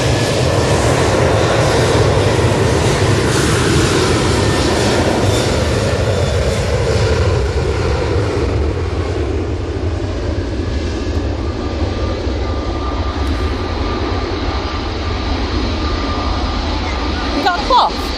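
Jet aircraft passing at Manchester Airport, a loud sustained engine roar that slowly fades and thins over the pass, with voices talking over it.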